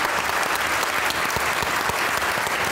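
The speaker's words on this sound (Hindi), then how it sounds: "इमरान भाई के लिए ताली।" Dense applause from a crowd at a stand-up comedy show, steady and fairly loud, a continuous wash of many hands clapping for a guest named Imran.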